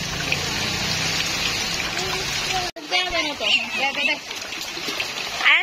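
Rain pours in a steady, loud hiss while people bathe outdoors in a village. It breaks off abruptly, then gives way to closer splashing and running water with voices talking and calling over it.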